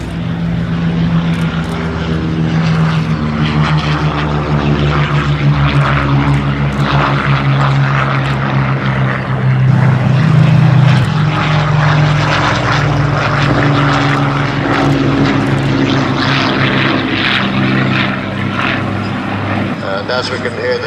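Hawker Hurricane fighter plane flying at a Battle of Britain airshow at Duxford, its propeller engine a loud, steady droning roar that swells as it passes close, with crowd noise and a commentator's voice underneath.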